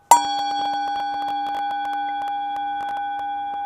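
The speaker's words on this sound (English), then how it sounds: "Here goes the gong." A gong struck once with a sharp attack, then a long ringing shimmer of steady tones that sustains evenly and fades slowly, with faint sounds in the background.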